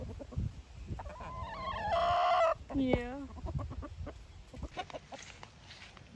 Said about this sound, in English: I just fed the chickens those little treats